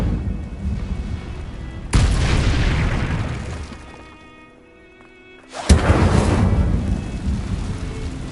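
Incendio fire spells cast in Hogwarts Legacy: two loud, booming whooshes, each a sudden blast that rumbles and slowly fades, separated by a short quieter lull, with no voices.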